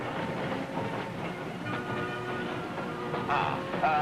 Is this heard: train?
yes